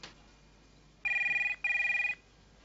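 A telephone rings twice in a quiet room, two clear electronic bursts of about half a second each with a short gap between them, close and loud against faint background hiss.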